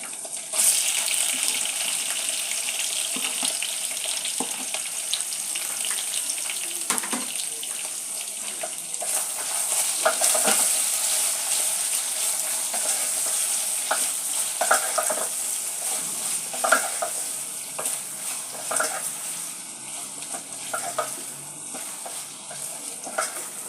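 Onion, garlic and ginger frying in a pan, giving a steady sizzle with a watery hiss, broken by occasional stirring scrapes and clatters, close and continuous with no talking.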